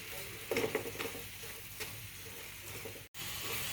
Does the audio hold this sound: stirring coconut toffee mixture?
yes